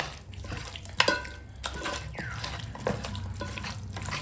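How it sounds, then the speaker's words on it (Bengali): Washed chicken being mixed by hand with ginger-garlic paste and garam masala paste, giving soft wet squelches and a few sharper slaps and clicks, quiet and close with no talk. "আদা রসুন বাটা আছে আর গরম মশলা বাটা আছে এখন একসঙ্গে মাখিয়ে রাখবো"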